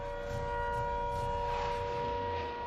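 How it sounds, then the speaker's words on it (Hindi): Air raid siren wailing during a blackout amid reported incoming air strikes, a steady sustained tone droning continuously in the distance with no voices. "हम आपके पीछे सायरन बजने की आवाज सुन रहे"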